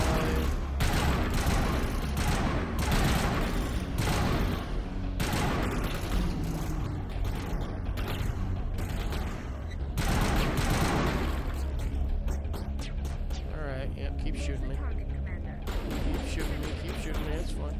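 Continuous gunfire and booms from a Mass Effect battle fill the clip, thick and loud, with repeated blasts and rattling fire layered under someone talking throughout.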